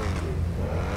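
A Mercedes AMG car in GTA 5 idles with a steady low engine rumble and faint whir, loud and close, continuous throughout the short moment.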